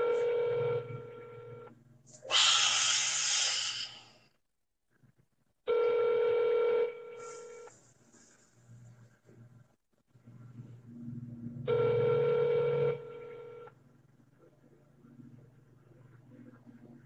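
Outgoing Google Voice phone call: repeated ringback tones in long, evenly spaced bursts with short gaps, a bright higher tone between rings, fairly loud and close, with faint background noise.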